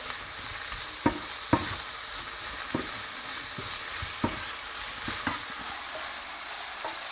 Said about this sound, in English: So you're going to get a little sear on the meat from the seasoning